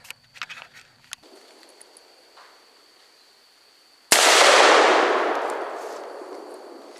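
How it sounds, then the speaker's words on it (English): A .454 Casull revolver fires a 260-grain full metal jacket Magtech bullet into a concrete block outdoors. A single sharp, very loud report cracks out and then rolls away in a long fading echo, after a few quiet handling clicks and faint birdsong. "I thought it'd be fun to shoot a block with a 454 Casull with a 260 grain Full Metal Jacket Magtech bullet"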